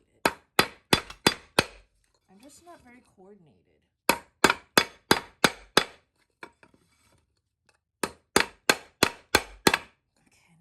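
Sharp metallic hammer blows knock a bearing out of an Ex30 electric scooter, falling in three rapid bursts of about five strikes each, with a woman's short remark and some rustling in the gaps.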